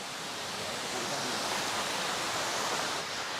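Waterfall at a river in Grenada roaring as a steady, dense wash of falling water, loud and close, continuous throughout with no breaks.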